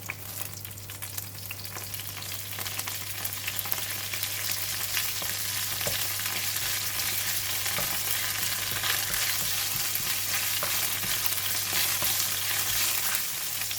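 Dry chili, fennel seed and curry leaf stir-fry in oil, giving a steady, busy sizzle with light scraping throughout, no talking.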